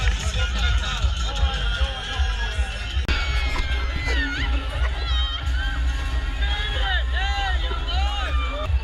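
Dense crowd hubbub at a street festival in Grenada, a steady wash of many overlapping voices with shouts and calls rising throughout, loud and close, continuous for the whole stretch.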